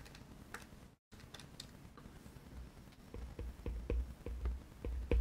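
Light, evenly spaced clicks of someone typing on a computer keyboard, faint and close against a quiet room hiss, with a short burst of keystrokes that grows steadier toward the end.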